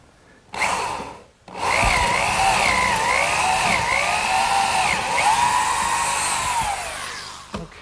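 A power drill runs steadily for several seconds, boring 3/8 inch dowel holes with a brad point bit through a 2x4 tenon and mortise on a garden bench, the whine wavering in pitch under load after a brief start and stop.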